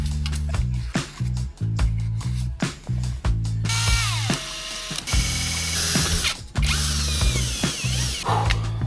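A power drill bores a pilot hole through a tiny-house wall for an AC lineset, starting in short rhythmic bursts of whirring and then running in longer loud grinding stretches, close up with no talk.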